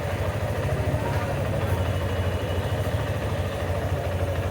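A Suzuki Gixxer FI ABS motorcycle engine runs at a steady raised idle of around 1600 rpm, a constant close, even drone throughout, with someone talking over it.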